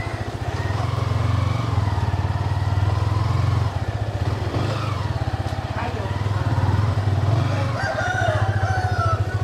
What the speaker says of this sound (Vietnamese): Gà kìa mẹ, đây nuôi gà đá.